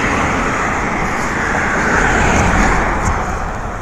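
Steady loud street traffic at the corner of William St and Augusta St in Racine, Wisconsin, cars rumbling and hissing past close by in a continuous wash of road noise.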